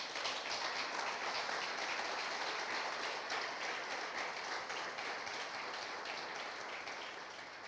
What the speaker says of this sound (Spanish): Le damos un aplauso al Señor por Eduardo.